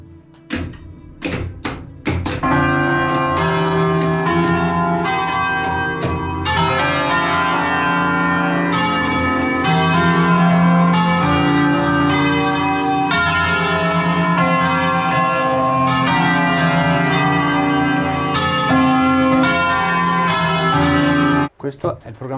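Church bells ring out a solemn concert, struck rapidly at first and then blending into a sustained, rich pealing of overlapping tones that holds loud and continuous for about twenty seconds before stopping abruptly.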